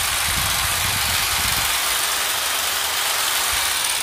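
A brand-new Japanese-market 100V electric hedge trimmer runs nearby with a steady, loud, smooth mechanical whir and buzz, with a busier rattling texture at the start that settles into an even hum.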